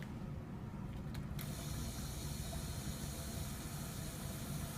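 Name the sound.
laboratory vacuum pump turned on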